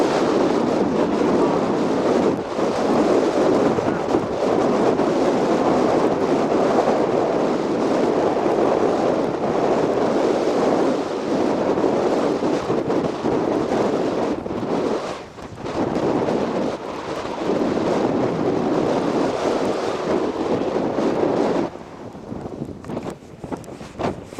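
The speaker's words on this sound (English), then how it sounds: "windy and raining right now." Steady roaring wind buffets the microphone with a constant wash of rain-like noise, loud and continuous throughout.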